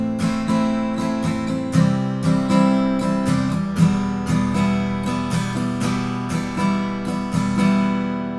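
Acoustic guitar strumming the chorus chords of a song, a steady rhythmic strum of full ringing chords played up close with regular accented strokes throughout, no voice.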